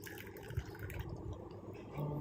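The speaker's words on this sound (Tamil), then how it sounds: "இது கூட வந்து நான் 1 கப் அளவுக்கு தண்ணி சேர்த்துக்கிறேன்." Water is poured into a clove and jaggery mixture, a faint, soft trickle and splash at low volume with quiet background noise.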